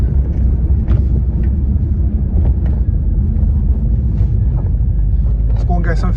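A Ford Escort RS2000 on the road, its engine giving a steady low rumble throughout with road and cabin noise layered over it, and a few faint higher clicks and whines poking through.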